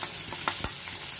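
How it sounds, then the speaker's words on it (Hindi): Corn frying with turmeric and red chili powder for spicy corn, a constant hissing sizzle with a few soft stirring scrapes over the brief moment. "ये देखिए अच्छी तरह से फ्राई हो रहे हैं"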